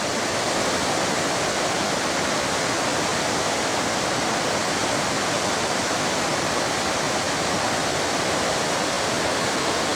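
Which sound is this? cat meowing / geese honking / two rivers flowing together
two rivers flowing together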